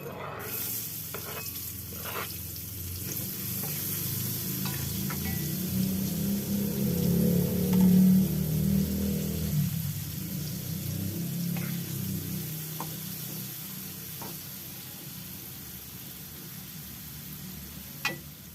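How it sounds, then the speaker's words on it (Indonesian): Sliced shallots fry in used cooking oil for Sundanese nasi liwet, giving a steady close sizzle and crackle. The frying swells midway as the pan is stirred, then settles back, with a few sharp pops and utensil taps. "mama akan menggoreng bawang merah yang sudah diiris tadi di dalam minyak jelantah ini"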